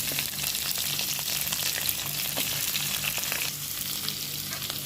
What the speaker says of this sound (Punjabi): ਤੇਲ ਨੂੰ ਗਰਮ ਕਰਾਂਗੇ ਹੁਣ ਇਹਦੇ ਵਿੱਚ ਜੀਰਾ ਪਾਵਾਂਗੇ ਪਿਆਜ਼ ਪਾਵਾਂਗੇ